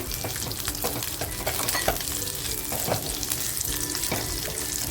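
Onion fries in a little oil in a pan, a dense, loud, even sizzle that fills the whole stretch, with faint scrapes of stirring now and then and no voices.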